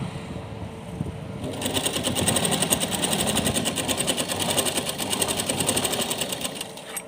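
Sewing machine stitching fabric for a small Laddu Gopal summer dress, a steady rapid whirring that starts after a quiet moment and runs continuously at close range with no talk.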